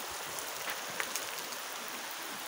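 Heavy rain pours steadily in a broad, dense wash with no breaks, falling in Paraíba during a flood, with faint scattered drop impacts and no voices.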